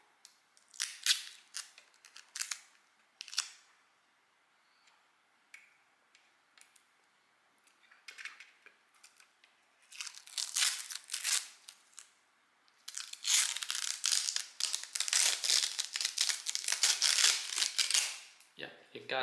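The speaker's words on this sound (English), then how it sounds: "Let's peel this plastic off." Protective plastic film crackles and tears as it is peeled off a Palit RTX 3060 Dual 12GB graphics card, first in sparse crisp bursts, then a longer continuous crinkling rip, heard up close.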